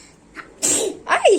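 A single close, sharp sneeze bursts out after a short intake of breath, followed by a brief vocal sound.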